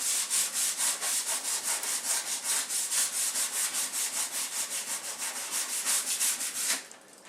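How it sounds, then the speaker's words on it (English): Sandpaper held flat rubs in a steady, rapid back-and-forth rhythm across a painted wooden table, loud and close, each stroke a dry rasp, stopping abruptly near the end. "I'm keeping the sandpaper flat, not really going in any one pattern"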